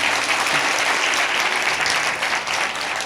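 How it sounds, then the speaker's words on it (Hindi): A church congregation claps in praise during a Sunday service, dense continuous clapping filling the room, close and loud with no speech. "ताली बजाकर प्रभु की महिमा करेंगे।"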